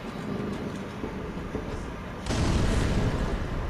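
A bomb goes off in Dark Souls 3 with a deep, heavy boom partway through. A low rumbling roar follows and continues, loud and close, with a muffled low ambience before it.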